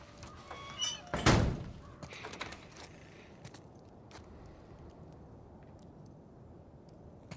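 A door slams shut in the video game The Last of Us Part I with a single heavy thunk close by, followed by a few soft knocks and footsteps in a quiet room.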